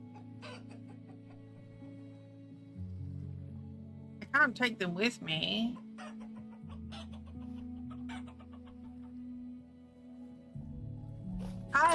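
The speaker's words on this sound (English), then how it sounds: "should I kill these chickens?" Chickens cluck in the video game Vintage Story, with a short burst of clucking in the middle and faint clucks near the end. They sit under game music and someone talking.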